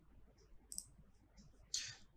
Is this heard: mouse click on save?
yes